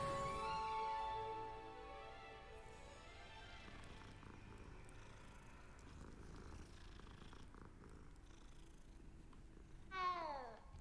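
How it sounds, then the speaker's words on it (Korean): A cat in Hogwarts Legacy purrs steadily throughout, with a short meow rising near the end over soft game ambience. "뭐야 이 고양이는?"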